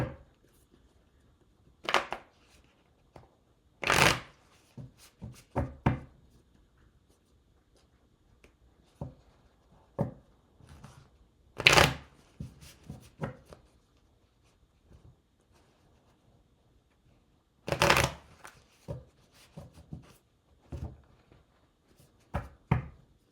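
Oracle cards riffle and slap in several separate bursts, with soft handling noises and quiet pauses between the shuffles.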